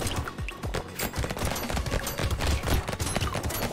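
Rapid, dense gunfire from piercing bullets in the Brotato video game crackles continuously as a steady barrage of overlapping shots, loud and unbroken with no talk.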